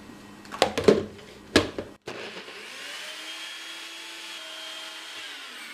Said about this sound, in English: You don't want to overheat your blender.